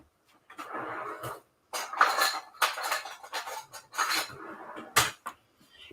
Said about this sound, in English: I'm just going to get a different peeler.